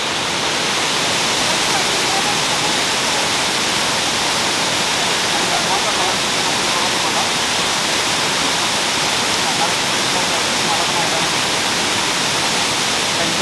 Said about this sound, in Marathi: तुम्ही पाण्याला फ्लो बघू शकता, खूप फ्लो आहे